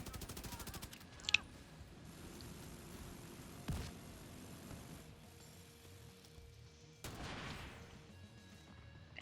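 Gatling gun firing in a video game boss fight against the Iron Horse, faint rattling bursts with a few sharper cracks and thuds over low background rumble.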